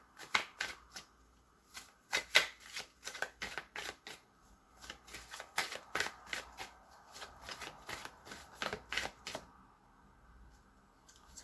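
A deck of tarot cards being shuffled by hand: a long run of quick, crisp riffling flicks and soft slaps in uneven bursts, close and fairly quiet, with no talking.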